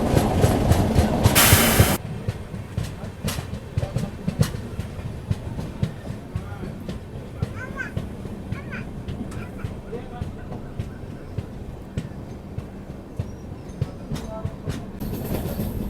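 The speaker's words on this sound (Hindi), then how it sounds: "यहाँ पर अपनी ट्रेन अभी एंटर हो रही है काटपाड़ी जंक्शन रेलवे स्टेशन पर।" The Pune-Kanniyakumari Express rolls into Katpadi Junction station, with a steady rumble and scattered wheel clatter heard from on board, a loud burst of rushing noise at the start, and faint voices in the background.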